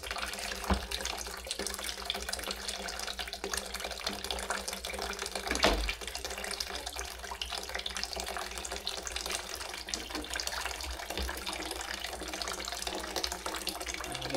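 Meat is rinsed under a running tap, producing a steady, moderately quiet gush of water with a couple of brief splashy knocks near the sink.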